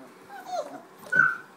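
Six- to seven-week-old Labrador puppies give faint high whimpers and a brief yip while playing, heard under a person's quiet talk.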